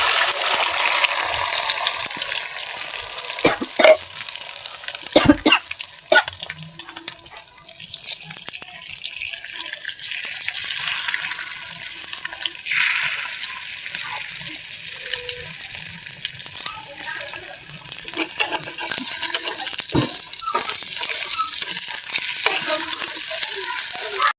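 Eggs frying one after another in hot oil in a pan, a loud continuous close sizzle and crackle that runs throughout, broken by occasional sharp clacks and scrapes from the pan.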